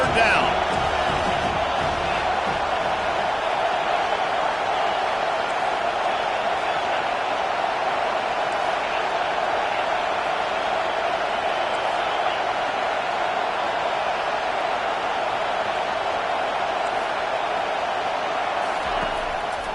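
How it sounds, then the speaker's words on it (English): Home crowd at an American football game roaring as the defense tries to get off the field on third down, a steady loud wash of cheering throughout with commentary over it. "Here comes this home crowd as the defense tries to get off the field on 3rd down."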